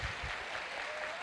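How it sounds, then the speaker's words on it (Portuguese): A brief burst of audience clapping fills a lecture hall, dense and even for just over a second. "Palmas, pessoal."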